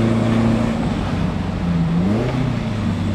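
An Alfa Romeo GTV engine hums steadily while driving, its tone dipping and rising as a downshift is made, close and fairly loud throughout.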